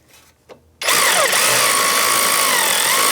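A power tool with a 17mm socket snugging brake caliper bolts on a 2015-2024 Jeep Renegade, starting abruptly after a quiet moment and running as a loud, steady whir for over two seconds.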